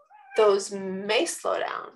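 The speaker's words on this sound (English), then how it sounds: "that was just a cat voicing his opinion over there." A cat meows nearby, a voiced harmonic call breaking through a man's steady speech, which continues over and after it.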